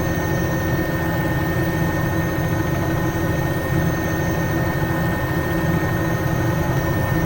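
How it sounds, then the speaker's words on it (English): Steady drone of a Bell 206 helicopter in a flight simulator game, a continuous engine hum with turbine whine and low rotor thrum, unbroken and fairly loud throughout. "But that blade slapping noise is just fantastic."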